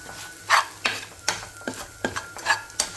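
Spoon stirring a turmeric, coriander powder and garam masala spice mix in a pan for stuffed ridge gourd, with about ten scraping strokes in a steady rhythm over faint sizzling, close and fairly loud.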